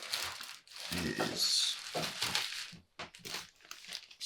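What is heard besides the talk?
paper crinkling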